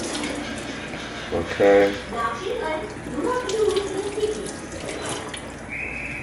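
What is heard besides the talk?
washing raw chicken under running tap water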